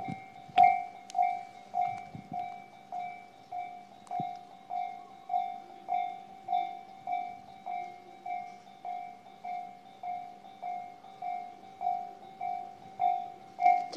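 Railway crossing bell ringing in a steady repeating rhythm throughout at a crossing in Kasukabe, Japan, with a faint rumble and occasional clunks in the background.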